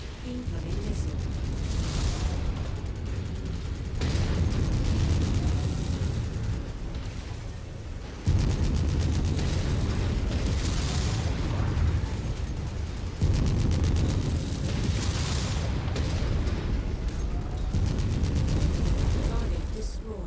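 Incoming missile explosions in the MechWarrior 5 video game: loud, sustained rumbling blasts and booms in several long, dense stretches, with voices heard at times over the din.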